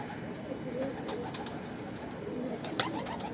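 A plump Mardin pigeon coos softly near its coop, a low steady murmur with a faint sharper chirp near the end, at moderate distance with outdoor ambience.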